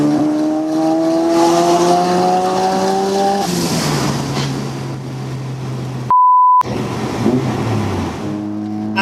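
A Mazda RX-7 sports car engine revs up through the gears with rising, rasping pitch, drops off, then climbs again, interrupted briefly by a short electronic beep.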